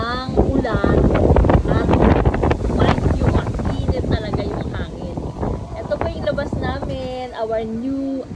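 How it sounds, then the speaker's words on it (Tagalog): Strong, hot wind buffets the microphone in loud gusts as Typhoon Ma-On approaches Hong Kong under signal 8, with no rain; people talk over the roar, which eases somewhat toward the end. "grabe ang hangin. Pero mainit ang hangin."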